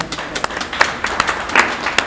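Applause for Papa Grif at a press conference of grand sapeurs, a dense patter of hand claps from a crowd, steady and fairly close throughout, with brief louder peaks.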